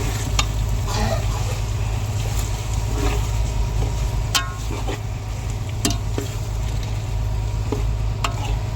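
Fish mince fries in a pan on a boat and is stirred with a spoon, producing a steady sizzle over a low engine hum, with occasional close scrapes and clicks of the spoon.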